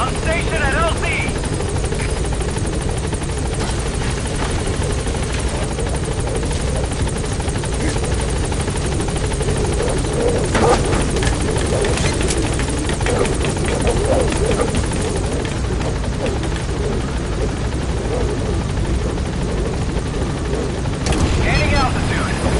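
A support helicopter in Metal Gear Solid 5 hovers at a landing zone, its rotor thrumming and buzzing loudly and continuously while voices talk over it.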